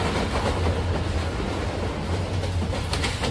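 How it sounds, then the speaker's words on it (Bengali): The Turna Express intercity train runs fast on the Chittagong to Dhaka line, a loud, continuous close rumble of wheels and carriage with faint clacking, heard from on board. "অনেক জোরেই টানছে ট্রেনটা"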